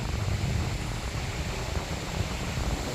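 Strong outdoor wind buffets the microphone during a flight with a small 85mm 1S whoop drone, a steady loud low roar with gusty fluctuations throughout and no voices.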